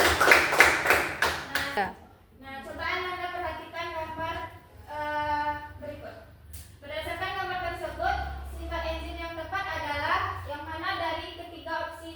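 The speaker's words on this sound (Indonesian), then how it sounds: "Beri tepuk tangan untuk Ika." A short burst of group clapping at the start in a biology classroom, then children's voices talking and chanting for the rest.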